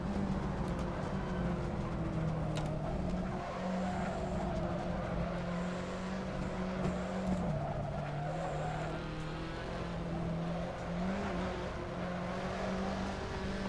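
Fiat Tipo race car lapping the Calabogie circuit, a continuous droning engine note with shifting pitch and faint tire noise, heard from inside the car without talk.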